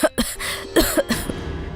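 A woman coughs several times in quick, rough bursts, close by, with a strained throaty quality.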